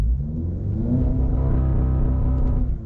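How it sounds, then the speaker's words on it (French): An ABT-tuned Audi S3 8V sedan with 375 hp is held on brake and full throttle at about 4000 rpm, producing a steady, loud, deep engine drone that stays level for a few seconds. "Tu appuies à fond sur le frein et à fond sur l'accélérateur. Ça va stabiliser le régime moteur à 4000."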